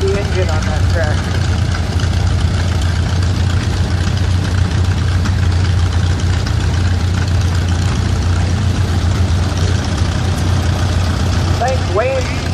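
A vintage tractor engine idles steadily at a parade, its low, continuous rumble filling the whole span with a faint knocking texture, while people talk over it and a voice cuts in near the end.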